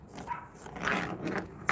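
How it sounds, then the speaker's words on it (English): A dog outdoors on a cold night barks close by in a short series of sharp yips and woofs, with no talking. "Tallulah, stop barking."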